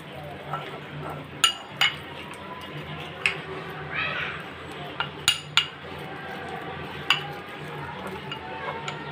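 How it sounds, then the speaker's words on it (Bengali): Spices being mixed in a bowl for a puti fish fry: soft scraping underneath, broken by sharp metallic clinks of a spoon against the dish spaced through the clip. "তো এখন সবগুলো মশলা আমি ভালোভাবে একসাথে মিক্স করে নেব।"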